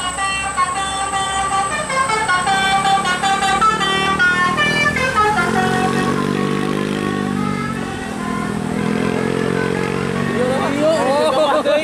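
Bus basuri musical horn blaring a loud, rising and falling melodic tune at a sharp bend in Banjar, with engine rumble beneath and a brief dip midway before the tune resumes.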